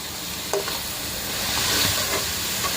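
Onion pieces fry in a pan with salt, turmeric and curry leaves, giving a steady close sizzle with a few soft stirring scrapes and no voices.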